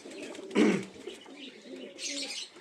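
Pet pigeons give soft, low cooing calls at close range, one fuller coo early on followed by quieter murmuring coos and a faint higher chirp near the end.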